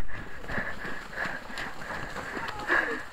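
A pony's hooves clip-clop in a steady trotting rhythm, close and fairly clear, with a voice in the background.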